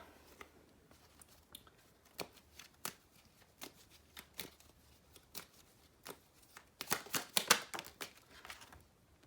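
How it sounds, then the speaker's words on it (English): A deck of Bob Ross cards is shuffled close by: faint scattered flicks and riffles build to a denser burst of card shuffling near the end, quiet overall with no talking. "I'm gonna get a Bob Ross card to finish this message."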